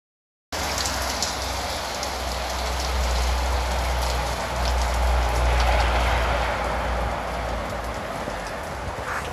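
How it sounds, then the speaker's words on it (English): Heavy rain pours down outdoors in Merida, Mexico, a dense, steady roar of drops at close range that starts abruptly and holds without talk. "Finally, the rain is here and it's cooling down."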